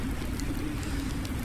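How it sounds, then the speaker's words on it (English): Steady rain falls in the farming game Farming Simulator 19, a dense, even hiss of drops with no pauses, lasting throughout at moderate loudness. "The rain's been falling all night"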